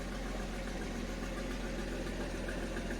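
A 1977 Datsun 280Z engine idling steadily after being revved, a low, even mechanical rumble held close and constant with no voices.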